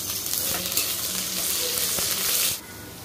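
Onions sizzling and frying in hot oil in a kadai over a gas flame, a steady dense crackle with a few stirring knocks, close and fairly loud, cutting off near the end.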